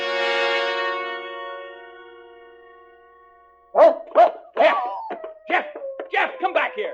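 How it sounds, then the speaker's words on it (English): A dog barks in a 1949 suspense radio drama, a quick run of about eight loud, close barks that follow a fading sustained tone. "Jeff, you fool dog, come back here."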